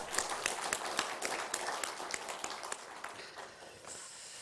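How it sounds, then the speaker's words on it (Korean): A church congregation at a morning worship service claps in brief, scattered applause that fades out within a few seconds. "박수 한번 칠까요?"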